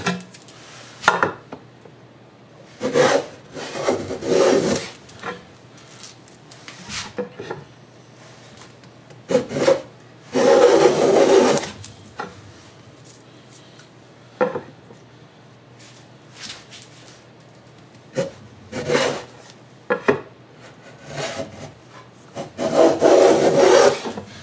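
Hand plane shaving a board's edge to cut a tongue on a Roubo-style shelf, with repeated rasping strokes of wood shavings at close range, separated by short pauses and faint handling noise.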